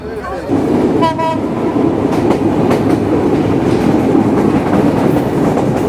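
Rupasi Bangla Express train rolling out of Jessore Junction railway station, a loud steady rumble of wheels and carriages with a brief horn-like tone near the start, continuous and close throughout.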